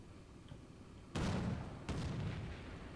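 Two heavy tank cannon blasts boom a second apart in the video game Combat Mission: Shock Force 2, each with a long rumbling decay, over a low battle background.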